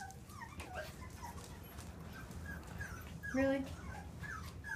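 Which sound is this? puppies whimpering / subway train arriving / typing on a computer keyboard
puppies whimpering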